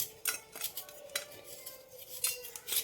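A knife shaves soft jaggery in close, quick scraping strokes that come in a rapid, uneven series of short metallic rasps, with no talking.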